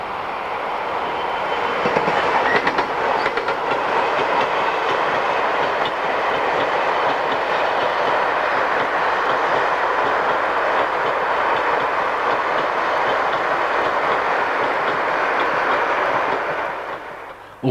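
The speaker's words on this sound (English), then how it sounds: "A former RFD 47 working is the 8:53 Washwood Heath to Wembley car train" A former RFD Class 47 diesel locomotive hauls a car-carrier train from Washwood Heath to Wembley past the listener, a loud, steady rolling roar with faint wheel clatter that holds for over fifteen seconds before fading.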